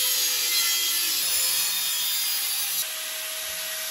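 Steady abrasive cutting on a 1928 Model A rat rod hood scoop, a continuous high hiss-like rasp that drops in intensity and changes tone near the end, up close with no talking.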